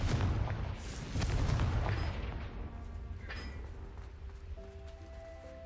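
Confringo fire spell blasting in Hogwarts Legacy, heard as a loud booming explosion with rumbling low end over the first two seconds, then a fading crackle and a brief high ring against a steady game ambience.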